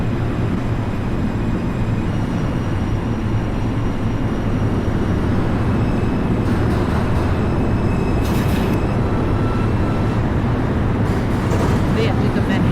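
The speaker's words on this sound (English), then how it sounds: "This is a Manhattan-bound 5 local train." An NYC Subway R142 5 train in OpenBVE runs with a dense, steady, loud low rumble and rail roar throughout, with faint hissing bursts partway through.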